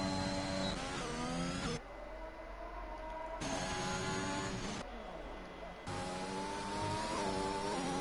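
An F1 car in the F1 2021 video game runs a lap on medium tires at the Mexico circuit, its loud engine whining steadily with rising and falling pitch as gears shift, under a commentator's voice.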